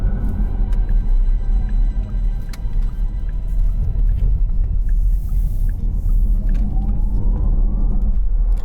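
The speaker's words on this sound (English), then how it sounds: "Now you hear that, right? That sort of warp speed." A Porsche Taycan electric car plays its optional electric sound package while driving, a low rumbling drone with a rising synthetic sweep that climbs in pitch, heard from inside the car with no talk.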